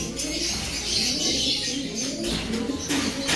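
Pigeons coo low and steadily against a constant wash of loud background noise.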